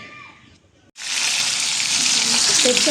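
Meatballs that were steamed first now frying in hot oil, a loud, steady broadband sizzle that starts abruptly about a second in and continues strongly to the end.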